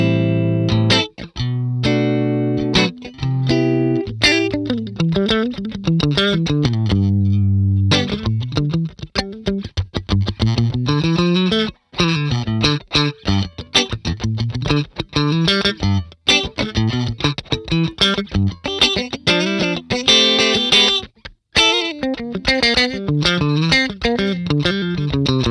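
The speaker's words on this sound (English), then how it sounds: "hop over to the second amp, which is the Clean Machine. So that sounds like this." Electric guitar played through the Neural DSP Archetype Clean Machine amp sim, funky clean chords and single-note lines, loud and close, with effects coloring the tone and no talk.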